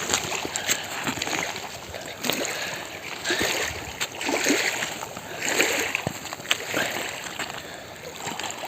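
A hooked mirror carp thrashes at the surface of a reservoir, giving irregular splashes and sloshing bursts, with quiet voices talking in the background.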